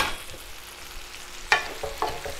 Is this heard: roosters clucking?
no